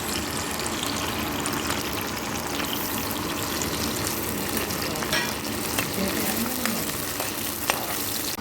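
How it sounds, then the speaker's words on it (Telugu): Dried shrimp fry in hot oil in a deep pan with a dense, steady crackle and bubbling sizzle, close and even, with a few small pops and scrapes. "మరిగిన నూనెలో ఆ ఎండ్రాయిల్ వేసి వేయించాలి"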